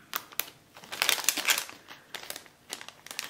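Crinkly plastic packaging being handled and opened to unwrap a ribbon, close and soft, with irregular rustling and crackling bursts.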